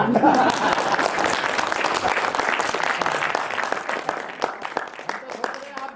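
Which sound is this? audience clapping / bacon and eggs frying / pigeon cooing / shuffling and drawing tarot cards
audience clapping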